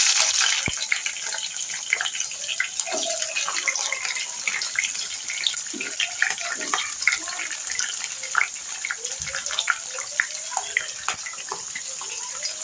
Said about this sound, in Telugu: ఆనియన్ పచ్చిమిర్చి అయితే వేగుతున్నాయి కదండి,